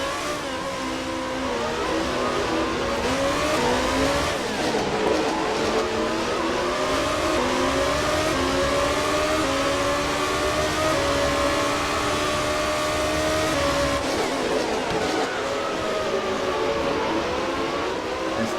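A GP2 race car laps the Abu Dhabi circuit under floodlights during a 2015 practice session, its high-revving engine screaming steadily with rising and falling pitch through gear changes, loud and sustained throughout.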